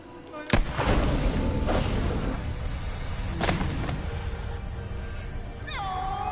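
A gunshot in The Quarry horror game rings out as one loud sharp boom, followed by a rumbling tail and a few more booms, with a voice at the end of the moment.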